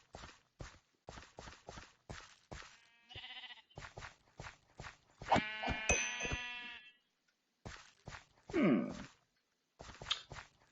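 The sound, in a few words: sheep bleating in video game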